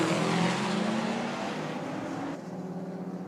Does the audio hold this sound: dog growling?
no